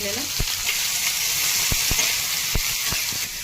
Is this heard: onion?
yes